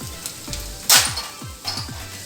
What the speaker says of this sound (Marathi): आता फोडणीचा एक जिन्नस घालते। हे सुरुवातीला आल्याचे जुलियन्स